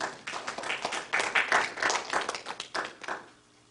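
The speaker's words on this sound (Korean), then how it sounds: "우리 하나님께 한번 영광의 박수 올리시죠." A church congregation claps together in praise to God, a moderate burst of many hands with rhythmic peaks that tapers off near the end.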